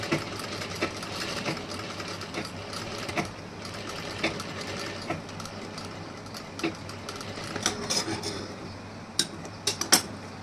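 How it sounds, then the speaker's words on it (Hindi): A sewing machine stitches the front panel of a blouse, running in a steady fast mechanical patter with rising clicks and small metallic taps near the end. "अब यहाँ हमें बीच में यहाँ पे स्टिचिंग करनी है।"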